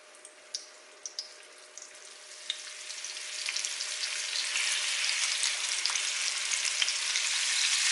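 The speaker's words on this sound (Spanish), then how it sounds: "En una cazuela vamos a añadir un chorro de aceite y cuando este comience a estar caliente vamos a" Chicken fries in hot oil in a pot. A few faint clicks come first, then a sizzle that swells and settles into a steady, bright, crackling hiss with no talk over it.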